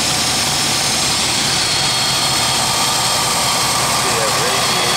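A 1967 Jaguar Daimler engine idles steadily with a smooth, even rumble, loud and constant throughout with faint talk underneath.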